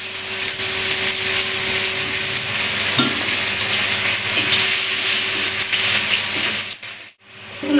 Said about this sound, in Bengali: এর মধ্যে দিয়ে দেবো গোটা জিরে ফোড়ন